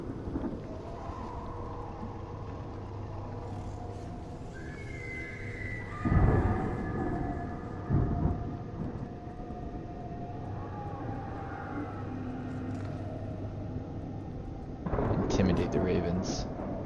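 Crackling lightning strikes from Ivan in the fantasy game Banner Saga 3 erupt as three loud, sharp cracks with rumbling thunder over a steady rain-like wash and low tones.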